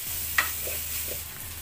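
Sliced onions sautéing in a pan, a soft, steady sizzle with a few gentle stirring scrapes and a light clink, close and quiet.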